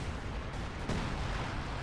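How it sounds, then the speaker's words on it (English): An artillery shell explodes in Company of Heroes 2 with a sudden low boom about midway, rising out of a constant dense rumble of battle noise, moderately loud and close. "nice artillery shell pushed back the Panzer Grenadiers"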